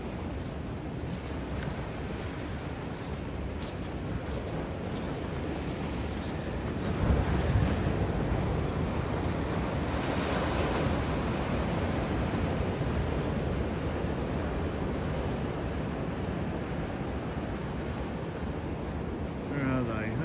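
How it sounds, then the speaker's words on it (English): Ocean surf washes continuously onto a beach in the morning, with a dense steady roar of breaking waves and wind rumbling the microphone, fishing boats nearby. "It's nice to hear the sound of the waves in the morning"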